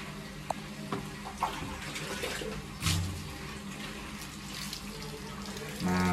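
Warm water rinsing shampoo off a cat during a bath: a steady, close stream of running tap water splashing throughout, with a few small knocks and splashes over it.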